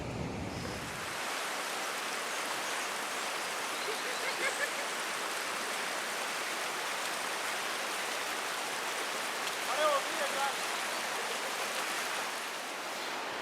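The Ramganga river rushes steadily beside a riverside camp near Namik village, a broad, constant wash of flowing water that fills the scene loudly and evenly from start to finish.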